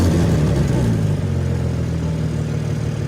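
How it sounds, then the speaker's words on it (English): A 2023 BMW M3 engine firing up after repairs to a wrecked car, settling into a loud, steady close-up idle with a low rumble and no speech. "You want to go ahead and see if it'll fire up?"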